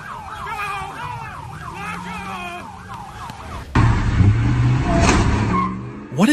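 A police car siren wails in repeated rising and falling sweeps during a high-speed chase, then gives way to a loud, rough engine and road rumble near the microphone.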